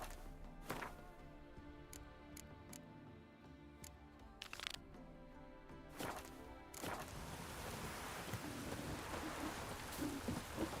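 Rain falling in The Witcher 3, a soft hiss that builds to a steady downpour with scattered thuds and knocks from the game world, without talk.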